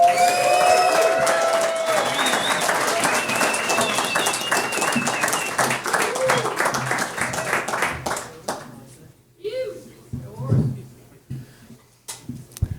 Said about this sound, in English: Give a big round of applause to Horse.